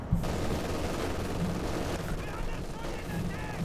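Machine gun fire in Company of Heroes 2 rattles in rapid bursts beside a crackle of other battle gunfire and thuds, a dense, loud, continuous wash of combat noise.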